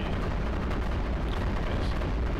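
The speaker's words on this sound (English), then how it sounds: "Placing the additional machine gun turret, which now makes our fifth machine gun turret along the path towards the" Machine gun turrets in the iBomber Defense strategy game keep up continuous booming fire with artillery-like thuds, steady and loud throughout, with no talking.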